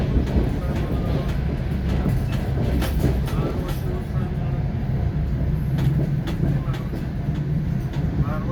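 A moving train to Samarkand via Bukhara rolls along with a continuous low rumble, broken by repeated rhythmic clacks and rattles from the tracks and carriage at close range.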